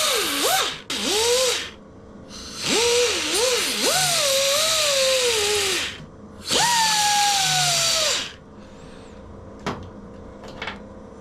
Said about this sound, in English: I'll see what I can do with the belt grinder